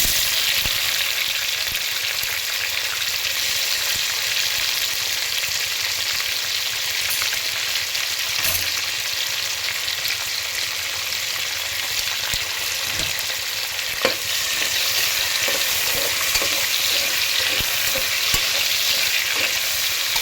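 Onion and other pulao ingredients sizzling in oil, a continuous dense frying hiss that holds steady for the whole stretch, with occasional small pops and no voices.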